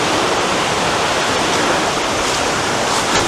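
Water rushes steadily through an old stone aqueduct built to feed sugar plantations and factories near a waterfall on St. Vincent, a loud, continuous close-up roar with no voices.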